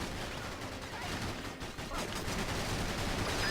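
Continuous, dense gunfire crackles and rattles in the Battalion Wars video game, rapid machine-gun bursts overlapping into a loud, steady barrage that fills the whole stretch without pause.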